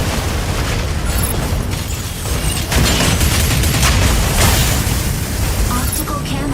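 A barrage of explosions fills a Mecha Break match, with dense overlapping booms and bursts rolling continuously and loudly. The blasts grow heavier partway through.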